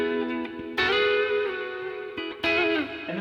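Les Paul electric guitar run through delay and reverb, playing sustained ringing notes with strong attacks that trail off into echoing tails, fairly close and alone.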